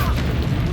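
A Confringo spell explosion from Hogwarts Legacy gives a short, deep boom with a rumbling low-end burst, close and loud, lasting under a second.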